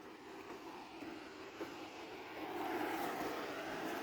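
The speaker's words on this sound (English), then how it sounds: "Sorry for the noise of the air conditioning." An air conditioning unit runs in a fig garden with a steady broadband whoosh and low hum, faint and continuous, swelling slightly toward the end.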